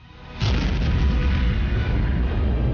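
A sudden loud explosion from a natural gas blast at a bank, caught on a security camera, erupts into a sustained, rumbling roar of noise that continues without letting up.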